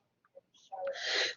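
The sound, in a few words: sneeze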